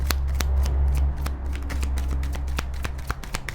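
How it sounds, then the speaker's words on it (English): Tarot cards are shuffled by hand in a steady run of quick, crisp riffling flicks, loud and close, over a low constant hum. "they want me to pull a card for the divine masculine"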